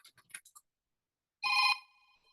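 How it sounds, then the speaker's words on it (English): A mobile phone rings indoors during a quilting session, with a few faint ticks and then one short, bright ring burst that cuts off and leaves a soft tail. "Forgot to silence my phone."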